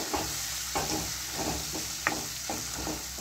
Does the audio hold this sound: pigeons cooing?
no